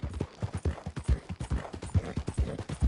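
Horse hooves clip-clop at a steady walking rhythm in a video game, close and clear, with the paired hoof beats evenly spaced and no speech over them.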